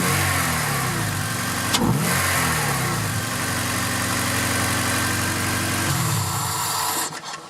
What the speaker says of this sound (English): I'm gonna do a first startup right now